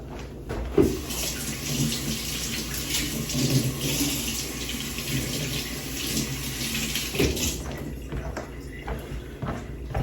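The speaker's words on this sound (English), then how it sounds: "Okay, I'm going to wash my hands real quick since I was handling it." Hands being washed under a running kitchen tap after handling raw chicken while cooking chicken stroganoff: a steady, close rush of water flows for the whole stretch, with a few soft knocks and splashes and no talking.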